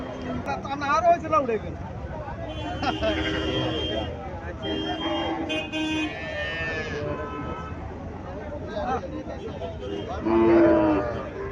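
A Sahiwal cow moos at a busy cattle market in Chandimura, Cumilla, several drawn-out calls among people talking, with a louder low moo near the end.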